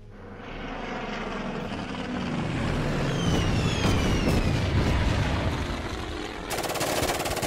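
Propeller aircraft engine drone in a WWII strategy video game, rising to a loud sustained roar mid-clip with layered rattling gunfire and mechanical noise, no talking.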